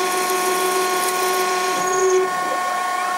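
Denford ORAC CNC lathe turning a radius end on metal bar at 1030 RPM with 1 mm cuts, a steady whining motor tone with cutting pitch shifting midway, close and continuous.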